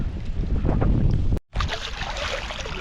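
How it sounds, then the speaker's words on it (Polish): Strong wind buffeting the microphone in loud rumbling gusts, cutting out for a moment midway before roaring back. "Ale się wiatr zerwał."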